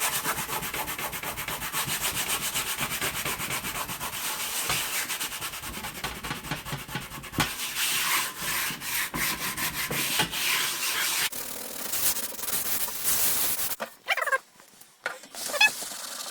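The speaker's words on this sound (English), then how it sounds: "We continue a little with the hard sanding paper." Steady, gritty scraping of hard sandpaper rubbed over a heavily rusted metal paella pan, continuous strokes for most of the clip before breaking into a few short, uneven rubs.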